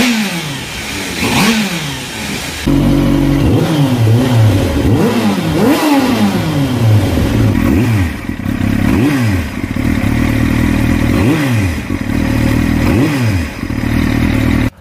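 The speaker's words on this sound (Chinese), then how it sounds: "给大家听一下当年的发动机声音。" A 1999 Yamaha YZF-R7 with a four-stroke inline-four, five valves per cylinder, revs hard and close, its engine note rising and falling in repeated sharp throttle blips over a steady idle.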